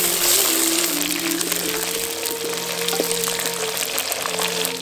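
Garlic, chana dal and dried red chillies frying in a pan for village-style raw tamarind rice, giving a constant dense, hissing sizzle that stays fairly loud throughout with faint crackles.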